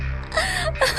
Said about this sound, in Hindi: ये रोने की आवाज किसकी है?